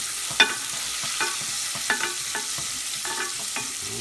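Apple and pear jam with a pinch of salt being stirred in a sizzling pan, a constant fry hiss broken by irregular clinks and scrapes of the spoon against the pan.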